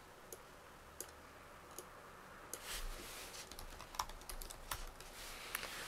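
Steady computer keyboard typing with sharp clicks, likely including mouse clicks, at a desk while a TouchDesigner project folder is being set up. The keystrokes run close and continuously, with scattered louder taps and no talking.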